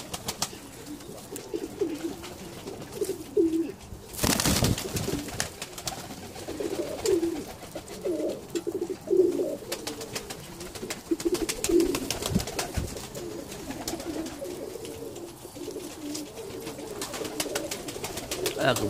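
Blue pigeons coo repeatedly in a backyard loft in the UK, their low rolling calls recurring every few seconds over a steady ambient hum, with one brief loud burst midway.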